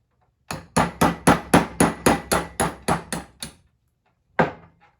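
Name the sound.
tapping 3/32 punch to drive out SCCY CPX-2 extractor pin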